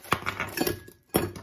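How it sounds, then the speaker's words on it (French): Ice cubes clink into a drinking glass in a rapid cluster of bright, close knocks and rattles, a brief pause, then one more sharp clatter; no one speaks. "Donc là, j'ai mon verre plein de glaçons."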